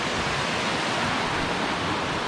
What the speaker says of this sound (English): You have the water coming from up the mountain,